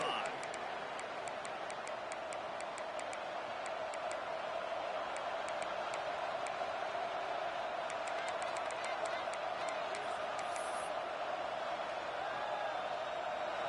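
A stadium crowd at a Gators college football video game holds a steady, distant roar of cheering throughout, with light ticking and a faint sense of speech mixed in.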